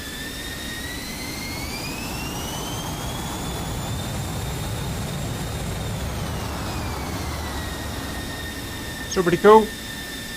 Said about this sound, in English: Afterburner stays on for a little bit too long, but God, it's a big nozzle